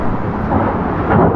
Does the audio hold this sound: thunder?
yes